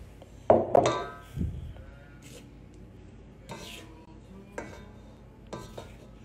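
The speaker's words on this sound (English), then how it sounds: "fold it in with a spatula" Batter is folded with a spatula in a bowl: a couple of sharp knocks and scrapes up front, then soft intermittent swishes and light taps of the utensil against the bowl, fairly close.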